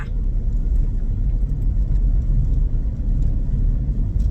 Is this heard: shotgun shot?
no